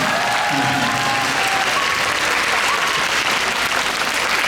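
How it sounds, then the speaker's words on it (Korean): An audience at a concert commemorating anti-Japanese resistance music in a girls' high school hall breaks into sustained, loud applause, dense clapping throughout with a few faint voices mixed in. "다시 한번 감사와 환영의 박수 부탁드리겠습니다"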